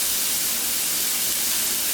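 Ostrich fillet sizzles steadily in a hot pan, a loud, continuous close-up hiss with no pauses.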